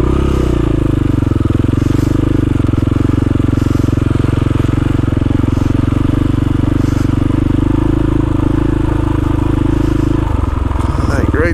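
A KTM motorcycle putts slowly over icy, rutted snow, its engine droning steadily and loud up close before dropping off near the end, with a rider talking over it.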